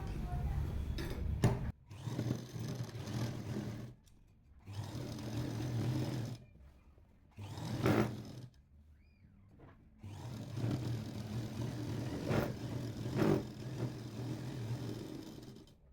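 A sewing machine stitches a kurti lining to the main cloth in several bursts of steady mechanical whirring, separated by short pauses, close by and moderately loud.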